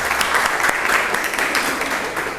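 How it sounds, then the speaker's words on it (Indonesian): Classroom applause at an Indonesian SMK 3 vocational school: a steady, dense round of clapping from a group of students that holds at an even level throughout, with no talk over it. "tepuk tangan buat kita."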